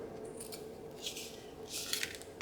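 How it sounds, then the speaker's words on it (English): Quiet scissors snipping through paper, two short cutting bursts close by against a steady low background hum. "I'm going to take my scissors and trim here"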